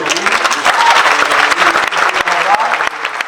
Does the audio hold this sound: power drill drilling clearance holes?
no